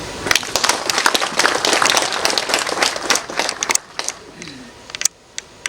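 A crowd at an anniversary celebration of the Chinese republic held in Burundi claps in a loud, crackling burst that thins out after about four seconds into scattered single claps and quiet gaps.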